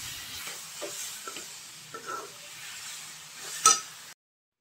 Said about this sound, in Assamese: এতিয়া ইয়াতে নাৰিকলৰ ভাজি থোৱা গুড়খিনি দি দিব আৰু এতিয়া এখিনি 5 মিনিট পুৰা 5 মিনিট মান সময় ভাজিম ধুনিয়াকে ভাজিম